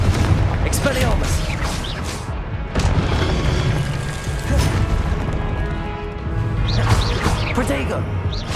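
Spell blasts and impacts from Confringo, Expelliarmus and other combat spells in a Hogwarts video game, repeated booming hits and crashes throughout, layered over continuous in-game effects and music.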